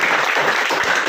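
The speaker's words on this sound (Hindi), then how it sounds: "ताली बनती है भाई।" Brief burst of applause from an audience at a government model school gathering celebrating board exam results, dense crowd clapping heard close and loud throughout.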